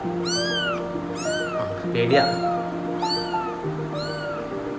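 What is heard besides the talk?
kittens meowing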